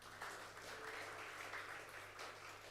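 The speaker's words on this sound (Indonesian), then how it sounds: "tepuk tangan buat Tuhan." An audience in a church service claps, a steady, fairly faint wash of applause held evenly throughout with no voices above it.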